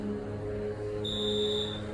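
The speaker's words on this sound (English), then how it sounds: "Listen to that motor." A ThyssenKrupp traditional elevator's motor runs with a steady low drone and hum, joined partway through by a thin high whine, close and continuous.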